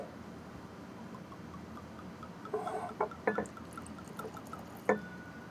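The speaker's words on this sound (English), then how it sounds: "Little tasting pour." Blended straight bourbon whiskey poured for a tasting, a short burst of gurgling glugs and liquid splashes into a glass, fairly quiet and close.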